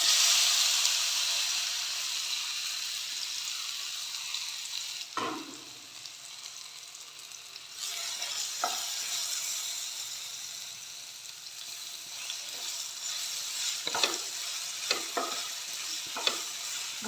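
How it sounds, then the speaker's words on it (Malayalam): Cut banana pieces fry in ghee with a bright, hissing sizzle that is loud at first and then settles lower, punctuated by occasional clacks from a stirring spoon. "ഈ രീതിയിൽ മുറിച്ച് വെച്ചതാണ് ഇതൊന്ന് ഈ നെയ്യിൽ വറുത്തെടുക്കാം"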